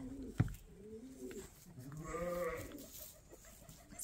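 Sheep bleat on a small farm, a single drawn-out, wavering call rising in the middle of the stretch, fairly close, over quiet background with a brief knock near the start.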